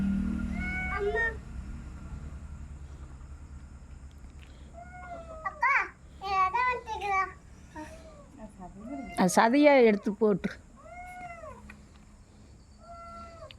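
A house cat meows at a kitchen while meat is being cooked, giving several separate mewing calls, some drawn out and insistent, with short bursts of speech from people nearby.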